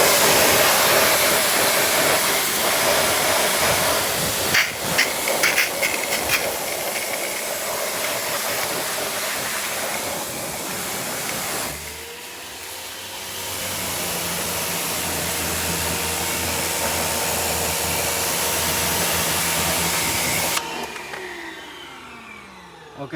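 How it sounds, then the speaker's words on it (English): A pressure washer rinsing down a car gives a loud, continuous spray hiss. It softens briefly partway through, then cuts off near the end. "sorry I didn't prime my pressure washer there, but rinse it all off"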